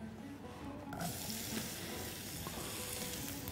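Diced onions drop into hot olive oil and fry with a sudden, steady crackling sizzle that stays close and even, with no talking over it.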